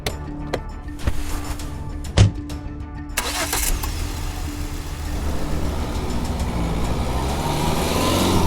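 A car engine cranks and catches, then settles into a steady mid-pitched idle that runs on to the end, with a few clicks and a sharp knock early on, no talking.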